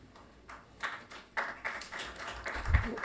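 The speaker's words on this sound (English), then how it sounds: "Could I not have the applause, please?" Scattered applause at a county board of supervisors meeting comes from a small audience in a meeting room: a few separate bursts of clapping, faint and somewhat distant, with quiet room noise between them.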